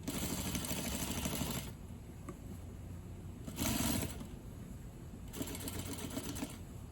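A sewing machine runs an understitch along the inside seam of a shawl collar, faint and close, in three short bursts of steady whirring separated by brief quiet pauses.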